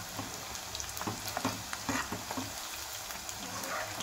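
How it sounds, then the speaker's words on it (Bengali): Cut nimki dough pieces fry in hot oil over low heat for a Durga Puja snack, giving a close, steady sizzle with scattered small crackles and stir sounds, and no one speaking. "একটু আঁচ কমিয়ে কমিয়ে ভাজতে হবে, তাহলে ভেতর থেকে ভাজাটা সুন্দর হবে।"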